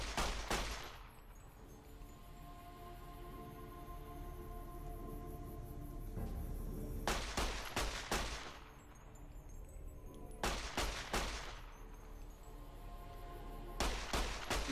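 Video game gunfire plays in loud, dense bursts of rapid shots, each several seconds long, with quieter stretches of game ambience between them and no talking.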